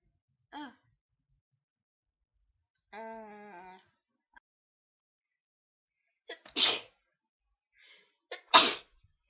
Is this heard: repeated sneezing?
yes